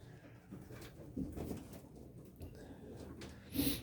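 Racing pigeons coo in low, soft bursts inside a loft, close by, with a faint rustle or knock near the end and no clear talking.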